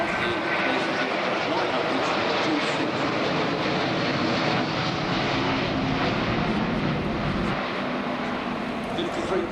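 Airbus A350-900 airliner at the Farnborough airshow, a steady broadband engine roar holding loud and even throughout, with a crowd or voices faintly mixed beneath.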